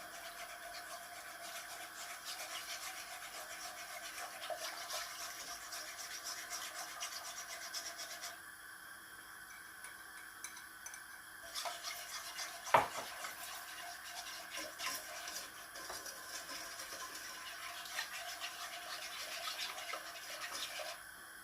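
A hand whisk stirs pastry cream in a pot over the stove, giving a steady, soft scraping rub that continues without a break.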